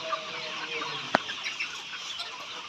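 Layer hens cluck softly in the background, a low steady murmur of farmyard chatter with one sharp louder squawk midway.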